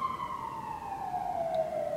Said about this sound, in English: I don't know where that siren is coming from